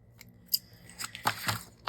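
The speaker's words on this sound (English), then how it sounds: "I think what I'll do is fussy cut some elements" Scissors fussy cutting small elements out of paper, a few close, crisp snips with short gaps between them, alone and without talk.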